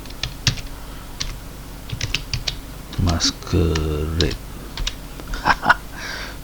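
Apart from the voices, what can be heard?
typing on a computer keyboard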